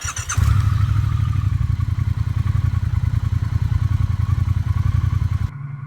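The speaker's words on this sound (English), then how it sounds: "hit the startup button and let you hear what it sounds like on startup" A Triumph Thruxton R motorcycle engine cranks and catches near the start, then settles into a steady, loud, throbbing idle that runs until it cuts off abruptly.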